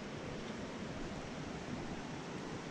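Git Git waterfall in Bali roaring as a steady, dense wash of falling water, loud and close, with no voices over it.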